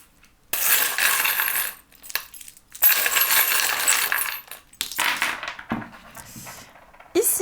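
Small charms cast and dropped onto a surface for a fortune-telling reading, a clattering cascade of metallic jingles in several bursts, close and fairly loud, with brief pauses between throws.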